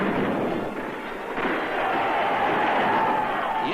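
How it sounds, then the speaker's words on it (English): Gunfire in an old film depicting the storming of the Winter Palace, a dense continuous rumble of shots and blasts heard loud and close, with no clear speech. "Notice Ivan Armstrong, the all-Russian boy, opening the gate under fire."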